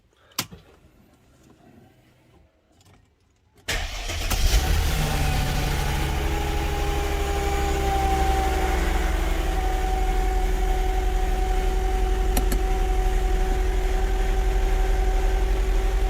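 Quiet at first with a few small clicks, then a Mercedes M112 V6 engine cranks and catches, settling into a loud, steady idle hum that continues to the end.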